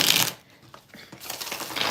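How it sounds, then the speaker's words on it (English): A tarot card deck shuffled by hand during a live reading: a crisp riffle burst, a few quieter card flicks, then another rising riffle, close and clear with no talking. "as I expect the deck to shuffle"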